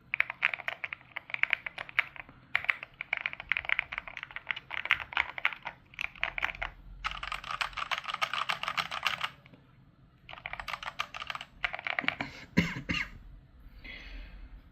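Typing on an MSI Forge GK600 TKL wireless keyboard, rapid close clacking keystrokes in bursts with short pauses, plus a cough or throat clearing partway through.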